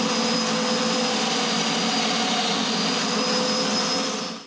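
A power tool cuts mortises in wood for a joint, giving a loud, continuous high-pitched whine that holds steady for several seconds before winding down at the end.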